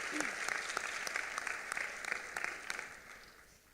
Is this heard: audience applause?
yes